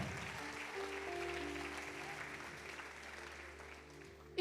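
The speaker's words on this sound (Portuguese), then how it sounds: "Aplauda ao Senhor." A church congregation claps together at a sermon's call to applaud the Lord, a steady wash of applause held for several seconds, moderately distant and fading slightly toward the end.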